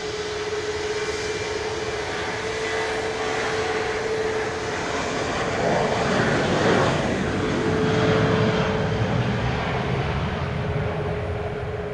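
A Southwest airliner bound for Lubbock, Texas, rolls along the runway at Dallas Love Field after dark, giving a continuous loud jet-engine roar with a steady whine that swells slightly mid-pass before holding level.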